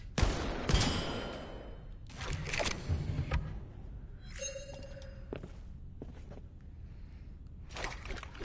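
Several sharp revolver shots from the Blood & Truth video game ring out in a loose, irregular series, with soft thuds and clanks between them and no talking.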